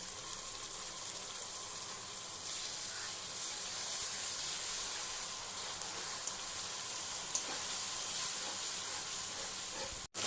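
A ground paste of onion, ginger, garlic, dried chilli and coriander frying with spices in a pan for Bengali chicken curry, a steady, fairly soft hissing sizzle that holds evenly throughout and cuts off abruptly at the end.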